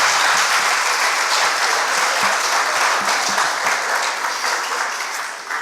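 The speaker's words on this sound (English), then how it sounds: "Please give them a round of applause." A school debate audience applauds two girls' debate teams after results are announced; loud, dense clapping fills the room throughout, tapering slightly near the close.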